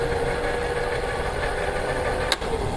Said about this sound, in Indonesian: Nah, motor berputar.